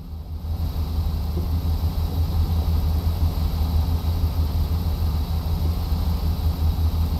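Peterbilt truck V8 engine in American Truck Simulator, hauling three trailers on mountain roads: a steady, loud low rumble of the running engine holding an even drone throughout, with no talk.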